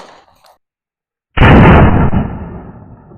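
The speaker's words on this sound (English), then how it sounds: "we're going to shoot it and see if the red dot's still zeroed" A single loud gunshot rings out at close range at a frozen target while testing a Cyelee Wolf Pro red dot sight, a sharp crack with a decaying tail after a quiet pause.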